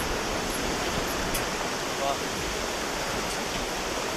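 Mountain river rushing steadily with broadband roaring noise, loud and continuous, a breezy outdoor setting on a trek, with no clear talk over it.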